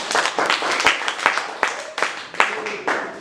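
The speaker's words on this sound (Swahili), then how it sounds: "Tunaweza pigia Yesu makofi" A church congregation claps together during a sermon, a brisk, uneven burst of many hands, loud and close, with a few people calling out over it.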